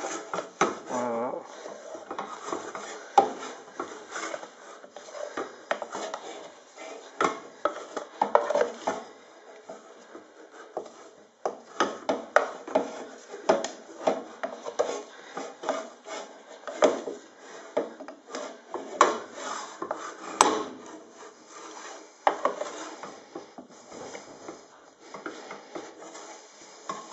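Hot soap is kneaded by hand in a pot while wearing tough rubber gloves, giving a long run of soft rubbing, squelching and scraping bursts, close and uneven, with no talk.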